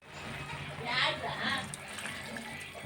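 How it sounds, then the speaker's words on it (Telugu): Water is poured into a pressure cooker holding curry, a short splashing, filling gush that swells and eases under steady nearby talk. "ఇప్పుడు కొంచెం వాటర్ వేసుకుంటాను."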